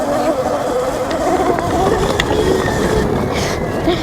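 A Rawrr Mini R electric dirt bike rides through mud up close, its motor whining and shifting pitch over a continuous rough rolling and splattering noise.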